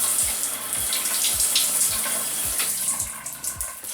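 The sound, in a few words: water being added to hair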